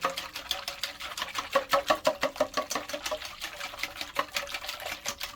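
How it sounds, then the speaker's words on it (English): Tart batter being whisked in a bowl, a rapid steady rhythm of light clicking strokes running continuously and close. "We're gonna whisk that again."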